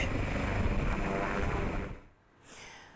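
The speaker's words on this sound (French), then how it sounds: "l'hélicoptère à bord duquel a pris place le couple présidentiel a pris congé de la région de l'indénié Duablin" Helicopter carrying a presidential couple lifting off from the Indénié-Djuablin region of Côte d'Ivoire, a broad steady rotor and engine roar that cuts off abruptly near the end, followed by a brief faint swell.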